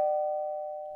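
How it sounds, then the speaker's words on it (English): A single electronic doorbell tone rings out clearly for about a second, steady and fading slightly, with no talk over it. "Well, you rang the bell."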